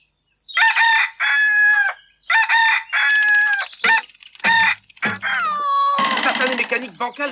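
A faulty mechanical rooster in a cartoon crows loudly in a string of broken, stuttering cock-a-doodle-doo bursts, some cut short, ending in a long warbling wail.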